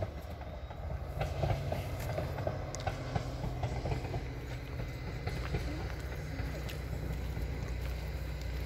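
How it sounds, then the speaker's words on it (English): A train rumbles past with steady rolling and clattering wheels over the rails, a continuous close-by roar lasting throughout. "There's the train."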